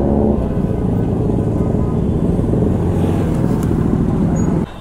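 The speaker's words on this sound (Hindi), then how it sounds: "Best sounding two cylinder bike." A two-cylinder superbike engine revs hard and close, a loud continuous throbbing roar that stays steady for nearly five seconds before cutting off abruptly at the end.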